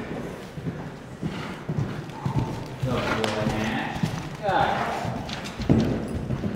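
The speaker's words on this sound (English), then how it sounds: "That moment when a horse is racing towards you does never feel good." Hoofbeats clatter amid ongoing talk and background noise, growing louder as a horse gallops toward the listener at speed during a show-jumping lesson.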